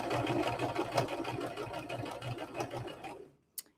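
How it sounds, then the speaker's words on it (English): A sewing machine runs steadily, stitching two different fabrics together with a fast, even mechanical whir that stops abruptly near the end, followed by a brief click. "you're just sewing it back together, but with two different fabrics"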